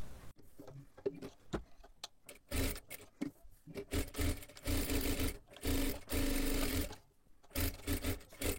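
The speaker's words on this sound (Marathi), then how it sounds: "आता इथे पाठीमागच्या बाजूला आपल्याला अस्तरला पूर्ण शिलाई मारून घ्यायची आहे." A sewing machine stitches a sleeve lining in several runs of steady mechanical whirring, some long and some short, broken by brief pauses and handling clicks.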